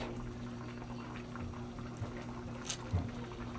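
Tulingan fish simmers in adobo liquid with okra, a steady low bubbling and gentle sizzle with a few soft pops and drips, close and fairly quiet throughout.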